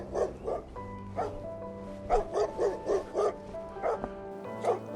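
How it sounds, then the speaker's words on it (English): A big dog barks in a quick series of deep, loud woofs, close by, with a steady hum underneath and no talk. "Big dog barks a lot."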